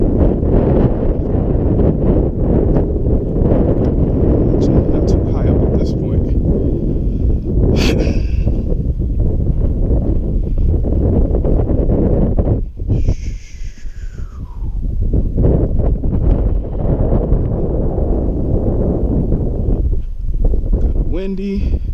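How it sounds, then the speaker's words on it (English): Strong wind buffets the microphone on the Kinzua bridge, a loud, constant rumbling roar with gusty surges and a brief lull midway, alone throughout. "Windy, but that's okay."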